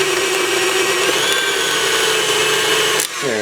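An electric mixer whirs steadily through cake batter with lemon zest and vanilla, a loud close motor drone that cuts off near the end as it winds down.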